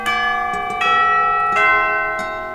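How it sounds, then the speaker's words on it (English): Church bells toll in a slow, steady series of strikes, each new peal ringing out over the lingering hum of the previous ones, loud and resonant with no voices. "And with the bells tolled,"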